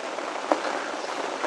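Steady rain falls at a campsite, a constant close hiss of drops with one brief louder patter, and no voices.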